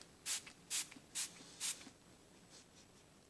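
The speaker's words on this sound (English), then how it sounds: "And then you spray it like this." A spray bottle of homemade lemon air freshener gives four quick, close hissing sprays in a steady rhythm, followed by a couple of fainter puffs against a quiet room.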